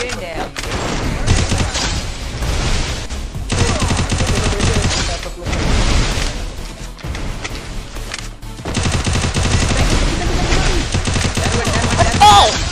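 Rapid game gunfire in an online shooter, long loud bursts of repeated shots broken by short pauses, with a player talking in Hindi during the action.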